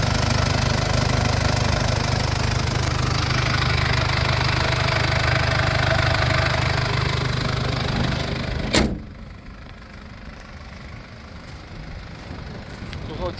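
Steady, even idle of a 2020 Mercedes-Benz Sprinter van's diesel engine rumbling nearby, then an abrupt drop to a quieter background hum as the engine cuts off.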